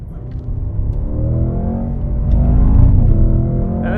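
A 2025 Cadillac CT5-V Blackwing V8 with a manual gearbox runs hard down a track straight toward a braking zone, its deep rumbling engine note loud and close and climbing steadily in pitch as it accelerates.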